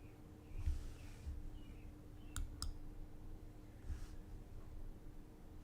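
A computer mouse clicks on a web link: two sharp, quick clicks close together, faint over a steady low hum, with no talking.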